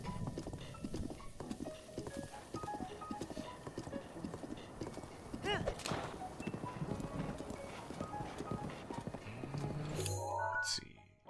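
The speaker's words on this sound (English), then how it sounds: "the horse is basically taking me where I need to go" Horse hooves clip-clop steadily at a running pace in The Legend of Zelda: Breath of the Wild, a continuous rhythmic trot with occasional game effects and a whinny, the music dropping out near the end.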